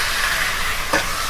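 Tomatoes drop into ginger-garlic paste frying in a pan, giving a steady close sizzling hiss throughout with a brief louder splash of frying near the end.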